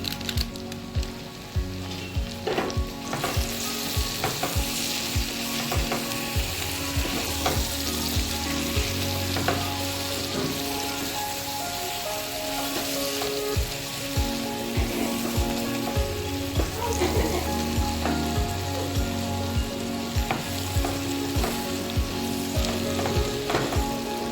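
Spice masala of cumin, coriander and Kashmiri chili powder frying in oil in a pan over a low flame, a steady dense sizzle with continual scraping stir strokes throughout, close and loud with no voices.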